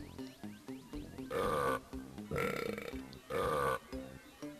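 Cartoonish burps from the Symphony of Burps minigame in Donkey Kong 64, three long loud belches in a rhythmic pattern over a bouncy video game music track with plinking notes.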